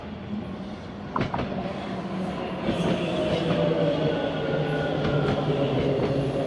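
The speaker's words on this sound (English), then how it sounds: "another train rolling in" A commuter train in Toronto rumbles in with a steady low roar and occasional clanks and rail clicks, growing slightly louder as it approaches; a faint voice is briefly heard.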